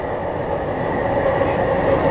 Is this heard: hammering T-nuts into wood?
no